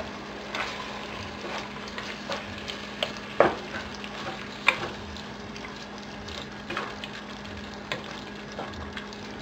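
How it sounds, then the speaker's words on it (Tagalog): Beef stroganoff with cream of mushroom stirred in a cooking pot: a steady low sizzle under scattered scraping clicks of the spoon against the pot, with a couple of sharper knocks, close and fairly quiet, no voices. "Then, isa-stir lang natin ito."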